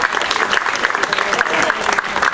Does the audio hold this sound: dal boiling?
no